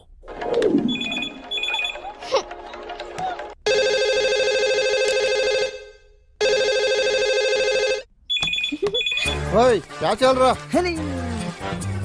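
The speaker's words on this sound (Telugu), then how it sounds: "ఫోన్ ఏంటి ఎంగేజ్ వస్తుంది?" A repeating electronic phone tone in long, steady beeps separated by pauses, with someone talking before and after.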